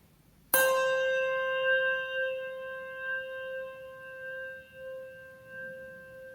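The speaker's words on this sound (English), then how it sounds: "This one is called the gyro, and this one we actually get to spin the bell, and the sound is going to travel all over the space." A single handbell is struck once, then rung with the gyro technique, spinning the bell; its bright tone rings on for several seconds with a gently pulsing, wavering swell as it fades.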